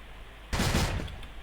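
A short burst of rapid gunfire in a video game breaks out after half a second of quiet room tone and fades within about a second.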